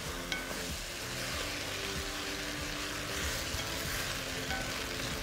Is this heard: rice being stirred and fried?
yes